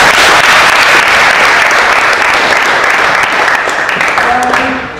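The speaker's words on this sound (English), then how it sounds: "With an applause." Loud, close applause from an audience at a ceremony, a dense sustained clapping that gradually thins out toward the end, with a brief voice emerging as it fades.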